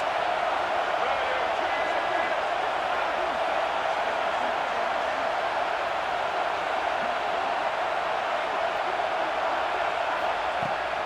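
A stadium crowd in a college football video game, Texas A&M versus LSU, roars as a steady, dense wash of cheering noise throughout.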